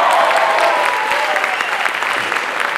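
A comedy show audience applauding, loud sustained clapping from a close crowd that holds steady and slightly eases over a few seconds, with no talk over it.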